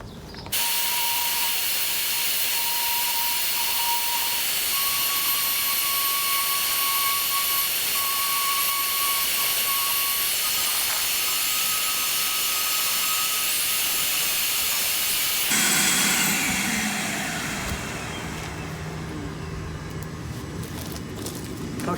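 A power sander strips paint from a boat hull, a steady loud whir with grinding hiss running continuously, its tone shifting as the speed is raised, then easing off near the end.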